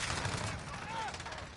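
MP5 submachine gun fire in Black Ops Cold War, a brief rapid burst of shots blending into dense game noise, loud and close, with a faint whistling tone partway through.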